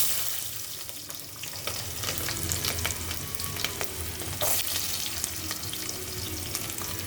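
Small onions with fennel and fenugreek sizzle steadily in a hot pan, a soft continuous frying crackle with occasional stirring clicks.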